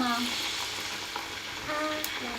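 French fries deep-fry in hot oil with a constant, bubbling sizzle close by, while faint voices sound in the background.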